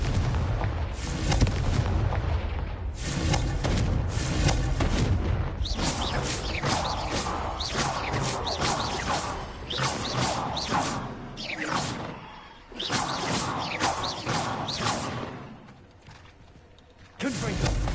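Confringo explosive spell cast repeatedly in Hogwarts Legacy, a string of loud booming blasts and whooshes close up, with voices shouting over the action.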